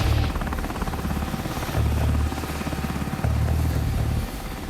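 Military helicopter in a Black Ops 2 Afghanistan mission flies toward a landing zone, its rotor thudding in steady pulses with a droning engine, close and loud.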